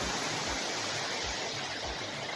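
Steady broadband rush of a waterfall transmitted over a Rocky Talkie two-way radio, a continuous hissy wash with faint low thumps, no voices.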